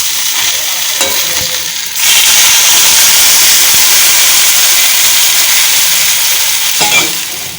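Water poured onto fried vegetables and potatoes for shukto: a low sizzle with stirring scrapes suddenly jumps to a loud, sustained roaring hiss that stays close and steady to the end.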